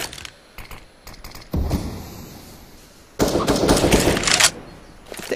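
Gunfire in Counter-Strike on the Inferno map, rapid bursts of automatic shots in two long volleys plus scattered single cracks, loud and close.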